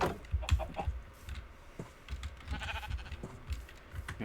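Sheep in the game Minecraft bleat several times, mixed with clucking from nearby chickens, a busy scatter of short animal calls at moderate volume without talk.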